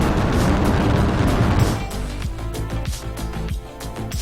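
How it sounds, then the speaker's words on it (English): A large explosion in a child's space combat video game opens as a loud, dense roar for under two seconds, then breaks into scattered crackling pops and smaller bursts that trail off. "That was a large explosion."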